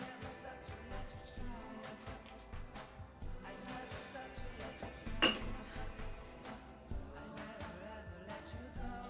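Body polish scrub ingredients mixed by hand in a bowl, a spoon clinking and scraping against the sides in irregular strokes, near and fairly quiet, with no talking.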